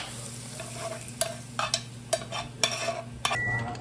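Mutton for biryani stirring and frying in a pan: a steady sizzle runs underneath while a spoon scrapes and clacks against the pot in irregular strokes, close and moderately loud, with no voices.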